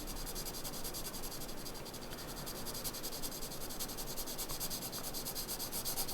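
A pencil hatches one-direction lines across paper for a shading exercise, giving a steady, close, dry scratchy rubbing that runs unbroken throughout with no voices.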